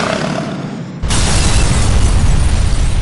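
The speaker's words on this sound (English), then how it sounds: "Let's give them 8 kinds of hell, Butch! Fire it all!" Weapons fire in Grand Theft Auto IV sets off a loud explosive blast, a sudden roaring boom about a second in that holds as a sustained, crackling rumble.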